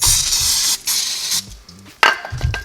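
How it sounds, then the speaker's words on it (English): Brake parts cleaner hisses from an aerosol can onto stainless caliper clips during a 2018 Crosstrek front brake job, two long close bursts of spray broken by clinking and handling noises. "Spray them with a little brake parts cleaner."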